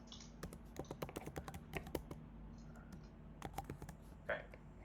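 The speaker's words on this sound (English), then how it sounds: "let's just manually type it in" Rapid keystrokes clatter on a computer keyboard in irregular bursts and single taps, close and fairly quiet over a faint steady hum, with brief pauses between runs of clicks.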